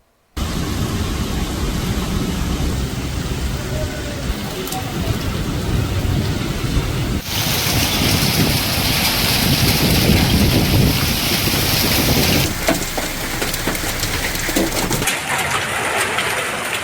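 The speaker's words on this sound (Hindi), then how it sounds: "बिजली के कड़ाकों के साथ धुआंधार बरसात बरसती हुई देखने मिली" Heavy unseasonal rain pours down steadily in Santrampur, Gujarat, a dense, loud hiss that swells in the middle, with low rumbles of thunder mixed through the downpour.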